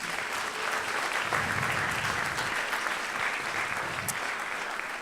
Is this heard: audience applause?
yes